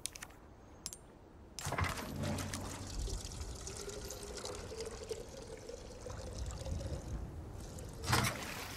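Boat moving through lake water in Resident Evil 4 Remake, a steady churning, splashing wash after a few clicks, with a louder splash near the end and no talk.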